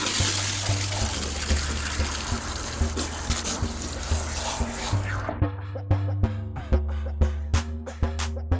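Water running from a tap while toner is rinsed out of a bleached honey blonde wig, a steady rushing spray that breaks off midway into dripping and intermittent splashes and handling sounds.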